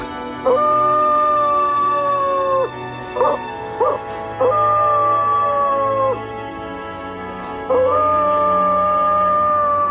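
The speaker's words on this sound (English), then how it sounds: "Let's call this one Cain, short for the coyote's Latin name, Canis latrans, the talking dog." A wild coyote gives drawn-out, wavering howls with a few short yips between them, loud and close in a quiet setting.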